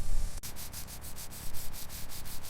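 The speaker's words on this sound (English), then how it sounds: "Keep sanding, we're exposing the rust." Close, rapid back-and-forth sanding strokes on rusty door panels of a 1961 Ford Mustang, a rhythmic scraping hiss repeating about every fifth of a second after a brief low thump at the start.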